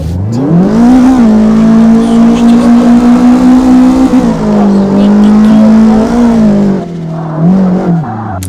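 A car engine revs hard in the CarX Drift Racing video game during a test drive, holding a loud sustained drone with pitch shifts, brief dips between gears and tire noise near the end.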